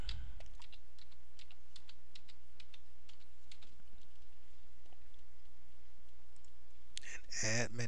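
Computer keyboard keys tapped in a quick irregular run while entering a password, crisp close clicks over a low steady hum, ending with a brief louder burst of clatter.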